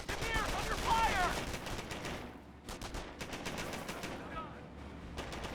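Machine gun fire and gunfire bursts from the Company of Heroes battle game, a dense, continuous rattle of rapid shots with sharp volleys, loud throughout, with a game voice briefly calling out under the shooting.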